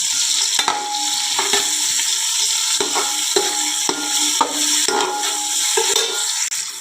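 Green chillies, onion, tomato, carrot pieces and soaked green peas with a little salt fry in hot oil for a simple biryani, a loud, steady sizzle broken by repeated spoon scrapes and stirring knocks, with no talking.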